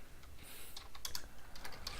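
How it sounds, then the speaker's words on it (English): Computer keyboard typing, a quick irregular patter of light key clicks running steadily throughout at a close, moderate level with no talking. "I wasn't even processing what I was typing"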